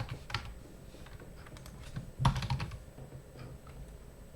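A computer keyboard is tapped in a quick, uneven run of soft keystrokes, close and quiet, with a small cluster of louder presses midway, as a first and last name is typed.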